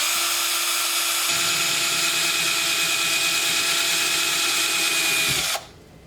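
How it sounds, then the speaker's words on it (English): A power drill whines steadily and loudly, its pitch dropping slightly as it bites into a plastic Stormtrooper helmet, then cuts off abruptly near the end. "and just drill away."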